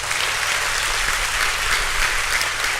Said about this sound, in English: I request all of you to give a huge round of applause to Tessie madam.